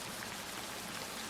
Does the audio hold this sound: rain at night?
yes